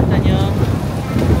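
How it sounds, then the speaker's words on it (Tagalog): Strong wind gusts across a microphone on Lukang Old Street, a loud, low rumbling buffet that persists throughout, with some voice mixed in. "Sobrang hangin po dito ngayon."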